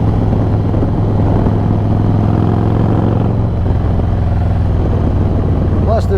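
A 2017 Harley-Davidson Slim S cruiser with a 110 engine runs with a loud, steady low rumble close by, while a voice talks over it.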